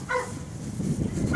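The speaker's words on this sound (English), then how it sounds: "That's my dogs." Dogs barking outdoors during a four-wheeler build, a few short barks heard at moderate distance at the start and end over a steady background rumble.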